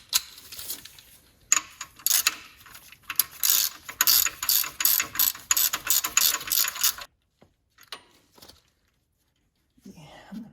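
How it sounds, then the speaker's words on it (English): Ratchet wrench clicking in rapid bursts while tightening the adjuster bolt on an RB26DETT engine's auxiliary belt setup, close and crisp for about seven seconds, then a few isolated clicks and a brief faint voice near the end. "We're gonna go ahead and start tightening down."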